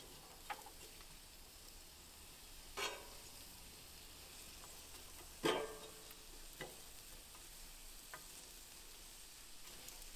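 Onions frying in oil on a Blackstone griddle, a soft, steady sizzle with occasional faint clicks and scrapes, quiet and close.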